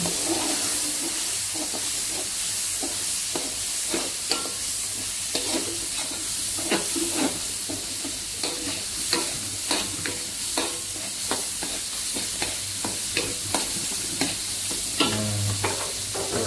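Chili spice paste for Acehnese duck curry is stirred in a pan, a loud steady sizzle broken by rhythmic scraping strokes of the utensil roughly every half second to second.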